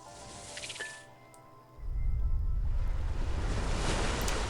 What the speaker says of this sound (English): What was that loud, soggy sound?